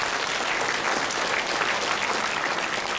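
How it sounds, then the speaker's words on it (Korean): Steady, dense applause from an audience at an award ceremony marking the 70th anniversary of Korean liberation, a sustained even wash of clapping with no gaps. "새삼 다시 박수를 보내주시기 바랍니다."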